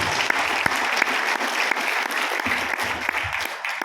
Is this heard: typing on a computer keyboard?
no